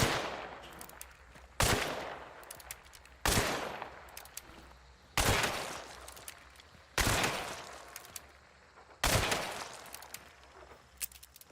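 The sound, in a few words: pistol shots at idle targets in a video game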